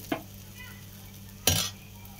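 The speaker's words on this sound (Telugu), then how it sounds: "ఇప్పుడు ఈ దోశల పిండి ఒక గరి తీసి అలా తిప్పుకోవాలి." Dosa batter ladled onto a hot pan gives two short scraping, sizzling strokes, a faint one at the start and a louder one near the end, over a quiet, steady background hum.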